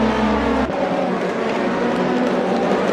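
Race cars in a racing video game at the SUGO circuit near the end of a 160-minute race: a loud, continuous engine drone with a brief dip and a shift in pitch, steady and close.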